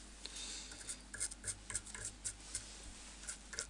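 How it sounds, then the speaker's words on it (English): Scissors scrape burnt parts off singed hair in quick, faint, rhythmic strokes, each a short dry rasp, close by and quiet with no talking. "I'm gonna use my scissors. I'm gonna scrape the burnt parts off"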